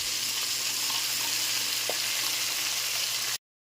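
Corned beef fries in a pan with tomato, a constant loud sizzle and crackle close by, steady from start to finish before a brief cutout near the end.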